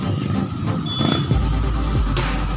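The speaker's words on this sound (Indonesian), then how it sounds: "Ini macetnya lebih parah dari yang kemarin" Heavy night traffic jam on Ciledug Raya road in Puribeta on the eve of Eid: engines of cars and trucks rumble low, with hisses and short beeps cutting in amid the congested street din.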